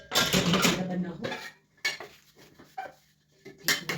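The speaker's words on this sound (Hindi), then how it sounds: "बस इनको इनकी जगह में रख देती हूँ और सारे बर्तनों को" Metal dishes and utensils are put away in a home kitchen, making loud, close clanks and clinks in uneven bursts separated by brief pauses.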